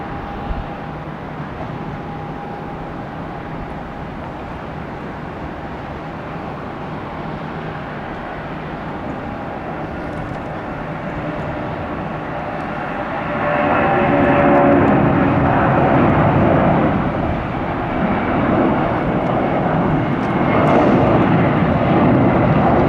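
An airliner roars down the runway and climbs away on takeoff at Tampa's airport: a loud, broad jet rumble that builds steadily and swells to its peak about midway, then holds at a heavy roar.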